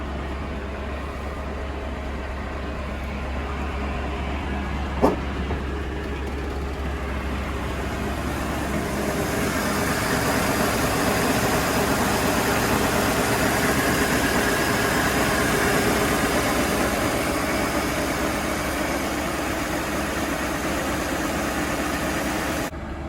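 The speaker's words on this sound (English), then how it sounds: "Let me let this thing warm up a little bit more." A 1988 Chevy R30 truck engine idles while warming up after a cold start, having sat for a year; a steady, continuous low rumble runs throughout, growing slightly fuller and louder partway through, with a single brief knock early on.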